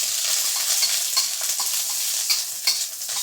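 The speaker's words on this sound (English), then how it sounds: "Okay, we're gonna stir fry this." A full bulb of garlic with onion stir-frying in a hot wok, giving a bright continuous sizzle with scattered crackles and scraping stirs, close and unaccompanied by speech.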